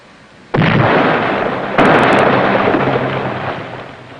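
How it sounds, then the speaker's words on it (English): A torpedo explodes prematurely with a sudden loud blast. A second burst follows about a second later, then a long rumbling roar slowly fades. "First torpedo broached and exploded prematurely."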